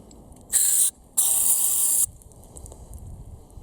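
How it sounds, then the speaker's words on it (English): Two sharp bursts of carb cleaner spray hiss close by, cleaning a Honda Civic idle air control valve, a short one followed by a longer blast, then quiet. "cleaning the idle air control valve. Got some carb spray."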